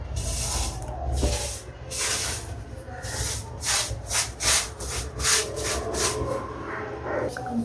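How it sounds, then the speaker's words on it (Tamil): Spray paint hisses in repeated short bursts with a rising and falling rhythm, up close and loud, over a low background rumble. "இப்போ வந்து நம்ம பெயிண்ட் அடிக்க ஆரம்பிக்கிறோம்"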